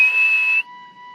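A person whistles to mimic a pet parrot, giving a loud, steady, pure-toned whistle that cuts off after about half a second, leaving a fainter sustained tone trailing behind.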